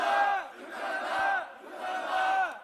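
A rally crowd at a political protest chants slogans in unison, three loud rhythmic shouted bursts with brief dips between, voices blending into one massed call.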